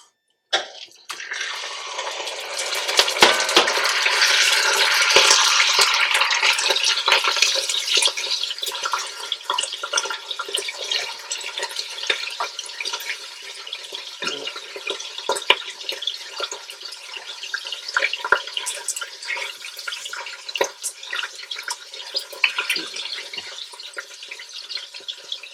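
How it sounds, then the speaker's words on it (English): Minced lamb browning in heated olive oil in a pot, a bright crackling sizzle that starts loud and settles into a steady, busy hiss with scattered pops, no talking. "We're going to start browning up this minced or ground lamb."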